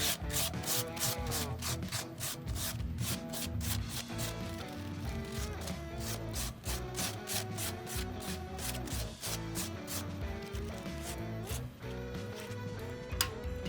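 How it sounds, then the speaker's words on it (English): Rhythmic scraping of a balled piece of tin foil scrubbed back and forth across hot Weber grill grates, a quick run of rasping strokes, close and fairly quiet, with no talking. "Right now, it's a perfect time to clean the grates. Let's grab it. Get another piece of tin foil."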